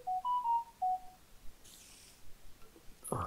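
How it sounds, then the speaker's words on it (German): A mobile phone ringtone chiming faintly, a few short rising and falling melodic tones in quick succession, then quiet with a brief hiss and a soft knock at the end. "Ist gerade mein Handy gegangen"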